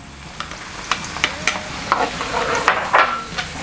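Garlic fries in oil for beef kulma with onions already in the pan, giving a close, steady sizzle broken by sharp scraping stirs of a utensil against the pan.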